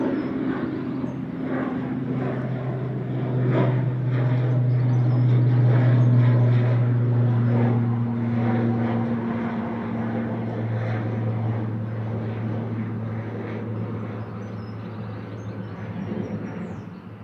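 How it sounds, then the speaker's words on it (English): A Loganair ATR 42 turboprop from Inverness, registration G-LMRD, drones loudly at Manchester Airport with steady low propeller tones that rise and fall, swelling in the middle and easing off toward the end. "So Logan Air after Inverness, GLMRD, ATR 42, flight 598."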